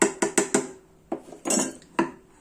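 Mustard seed tempering in hot oil poured from a small pan into a thazhuthama dal curry: a run of sharp metallic clinks and scrapes of the pan against the pot, with a brief sizzling burst, close and fairly loud.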